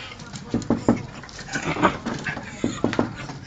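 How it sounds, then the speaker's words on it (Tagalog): Two dogs move about close by, with soft panting, faint whimpers and pattering paws in short bursts, fairly quiet and irregular, with no clear talk over them. "Ayun yung dalawang aso. Yan ang dalawang aso."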